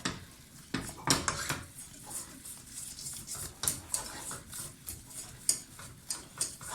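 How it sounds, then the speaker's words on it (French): Lasagne sauce is stirred in a pot, with a spoon tapping and scraping the metal in a soft, fairly regular rhythm, quiet and close. "il faut toujours continuer à tourner"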